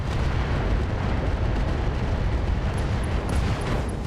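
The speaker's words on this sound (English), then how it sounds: "An SRM ammo explosion resulting in a kill." In the RogueTech BattleTech mod video game, an SRM ammunition explosion erupts as a loud, sustained roaring blast, dense and rumbling with no pauses and no voices.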